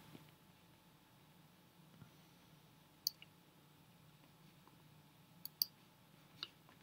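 Computer mouse clicks during iMovie editing, several sharp, faint clicks scattered singly and in a close pair over a quiet room hum.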